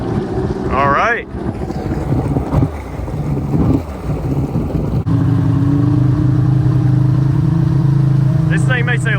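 Rebuilt 2000 Kawasaki Ultra 150 jet ski engine running on water with choke on, a loud steady low drone with wind buffeting, a voice talking over it near the start and end.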